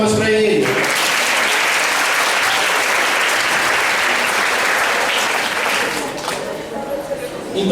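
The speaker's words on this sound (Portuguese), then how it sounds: "dá uma salva de palmas para ele" A church congregation breaks into sustained, loud applause after a call from the pulpit, the clapping steady and full before tapering near the end, with a voice briefly heard at the start.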